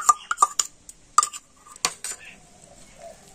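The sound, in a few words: mixing soaked semolina dough ingredients in a bowl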